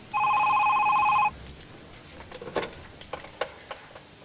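A telephone rings once in a steady electronic trill for about a second, then stops, leaving faint ticking and small room noises.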